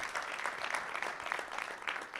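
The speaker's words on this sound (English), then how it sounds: "Please give her a round of applause." Audience at a community meeting about an entertainment and sports arena applauds a local chair, a moderate, steady round of many hands clapping that holds for a couple of seconds.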